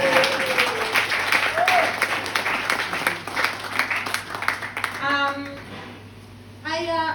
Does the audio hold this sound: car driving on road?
no